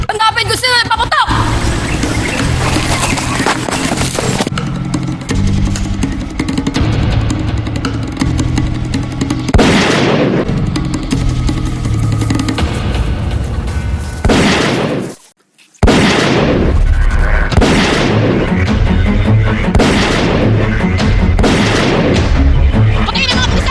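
Gunfire and explosions fill a battle scene in the film El Filibusterismo: loud repeated bangs and booming bursts over a dense roar, with shouting voices, one brief drop to near silence and then more blasts.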